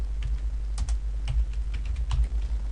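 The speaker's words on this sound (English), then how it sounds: "from right now I'm going to type in welcome." Fingers type on a computer keyboard, a steady patter of close, crisp keystrokes with a couple of quick double taps and no voices.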